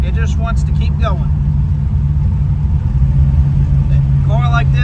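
A 1967 Dodge Coronet R/T on a test drive, its engine holding a steady, loud low rumble throughout, with someone talking over the drone at the start and again near the end.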